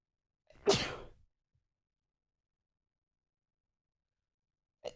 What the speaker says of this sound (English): sometimes doesn't a sneeze just feel so flippin' good?